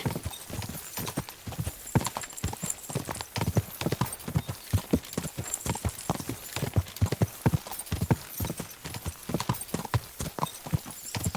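A horse gallops hard in Kingdom Come Deliverance 2, a rapid, steady drumming of hoofbeats that stays loud and close throughout with no pauses.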